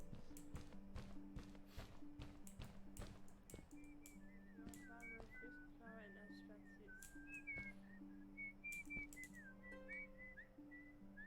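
A character in the adventure game A Story About My Uncle whistles a wandering, breathy tune, faint and continuous over soft footsteps and scattered taps, with a voice talking quietly underneath.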